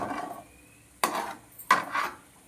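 Mint fried rice ingredients stir-fried in a pan: a soft sizzle with two distinct scraping, clattering stirs of a spatula against the pan, close and fairly quiet.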